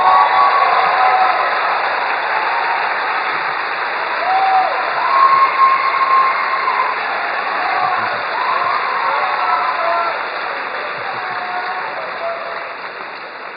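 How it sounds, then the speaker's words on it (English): A concert audience at the Montana International Choral Festival finale in Missoula applauds a brass quintet with steady, dense clapping that holds for the whole stretch and eases slightly at the end. "Can we please have another round of applause for the UM Celebration Brass Quintet?"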